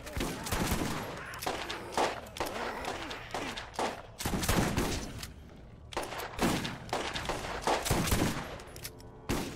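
Heavy shotgun blasts boom in a Borderlands firefight, fired in quick uneven clusters close up, with voices chattering between the shots.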